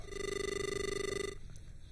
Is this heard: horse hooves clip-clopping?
no